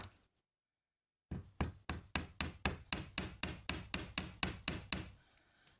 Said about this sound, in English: hammer that out